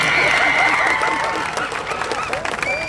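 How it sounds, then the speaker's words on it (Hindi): Loud crowd clapping at a public political rally in Dhule, close and dense, with cheering and whistle-like tones riding over it and some voices in the mix. "जोरदार तालियां बजाओ मंत्री के लिए।"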